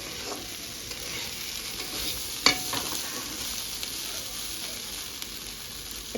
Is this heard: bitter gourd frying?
yes